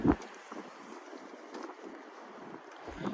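Steady sea wind rushes across the microphone on a boat, a constant broad roar with small gusts rising and falling throughout.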